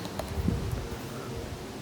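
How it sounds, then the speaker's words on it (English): Wind blows steadily outdoors at a garden koi pond, a continuous low rushing with slight gusts and faint rustling, no voices. "It's a bit windy today"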